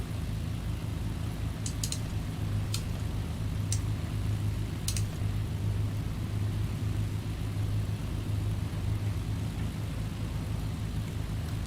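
Steady droning rumble of the piston engines on a simulated BN Islander aircraft in Microsoft Flight Simulator, running continuously at an even level with a few faint clicks over the top.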